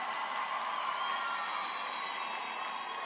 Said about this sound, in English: Can I please have a round of applause for the graduates?